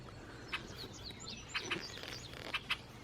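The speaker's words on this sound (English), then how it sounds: "Here's the babies. The baby red-winged blackbirds." Baby red-winged blackbirds chirp in a nest in a Wisconsin garden bush, faint high peeps arriving in short scattered bursts over quiet outdoor background.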